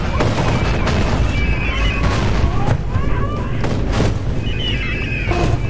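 Missiles exploding in the video game Lethal Company, a rapid series of loud booms and crashes with whistling streaks overhead, dense and continuous for several seconds.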